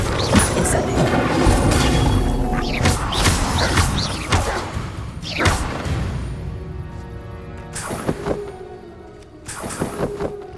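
Incendio fire spells bursting in the Hogwarts Legacy video game, a series of loud booming blasts and crashes at irregular intervals over a busy combat soundscape.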